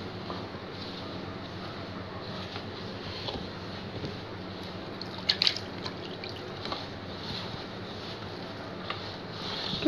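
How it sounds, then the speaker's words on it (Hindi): Water is added a little at a time to dough mixture roasting in a pan in a home kitchen, giving faint, quiet dripping and trickling over a low steady background. "पानी के साथ में थोड़ा थोड़ा पानी डालते जाएंगे और इसको भूनते जाएंगे"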